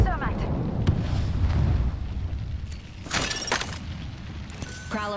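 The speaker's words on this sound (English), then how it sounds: "Throwing thermite" Thermite grenade thrown in Apex Legends, a loud burst and roaring whoosh of flames with sharp crackling flares later on, under game chatter and other combat noise.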